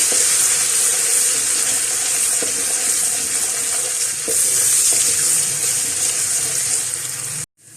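Ginger garlic paste fries in hot oil in a pan while Delhi-style haleem is cooked. A loud, continuous sizzle runs unbroken before cutting off abruptly at the end.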